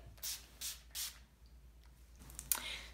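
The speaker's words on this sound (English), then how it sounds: "I'm just going to spray my face" Three quick hissing bursts of a makeup setting spray misted onto a face close by, evenly spaced, followed by a pause and a fainter fourth spritz with light rustling.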